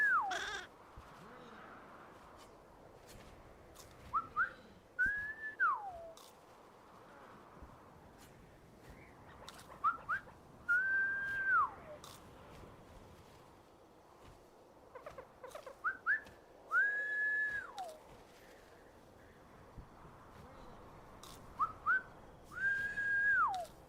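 Rising-then-falling whistle calls from the video game Flock repeat about every six seconds, each bright and clear, set over soft bleating sheep-like creature sounds and ambient game noise.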